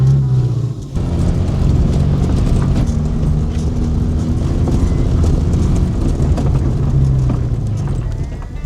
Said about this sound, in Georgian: ცოტა ხმა აქვს უბრალოდ მანქანას.